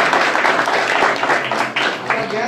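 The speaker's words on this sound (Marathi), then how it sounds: "जोरदार टाळ्या मारून हरकत नाही." Campaign rally crowd applauding during an assembly election tour in the Aronda zilla parishad constituency, a dense, steady wash of many hands clapping that fills the whole stretch at close range.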